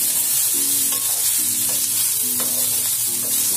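A spoon stirs puttu flour with vegetables in a frying pan, knocking rhythmically against the pan several times over a constant hissing sizzle, close and without speech.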